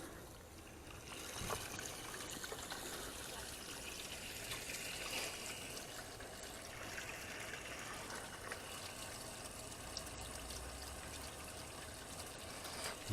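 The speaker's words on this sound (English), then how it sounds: "That all seems to be flowing pretty darn good." Coolant flows through van heater hoses as a faint, steady trickling and gurgling of liquid, continuous and close without any voices.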